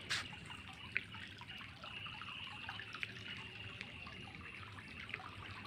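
Floodwater streams through a courtyard during heavy rain flooding in Sylhet, Bangladesh, giving a faint, steady trickle with scattered drips and small splashes, close by, with no voices.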